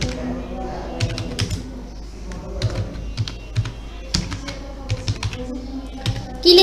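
Fast, irregular typing on a computer keyboard during a basic computer lesson, crisp clicks and key taps in bursts, close up, with a hum in the background.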